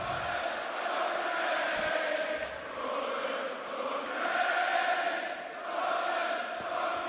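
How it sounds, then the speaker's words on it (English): Loud arena crowd at a WWE SmackDown broadcast, a dense roar of many voices swelling and falling in steady waves, like chanting, with no clear talk over it. "The crowd chanting?"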